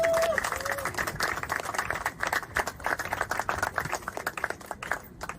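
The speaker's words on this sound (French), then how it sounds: "je vous demande d'applaudir" Applause breaks out for the directors at a justice ministry gathering, a crowd clapping in dense bursts that thin toward the end, with a voice speaking over the start.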